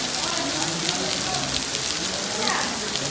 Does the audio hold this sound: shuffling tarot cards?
no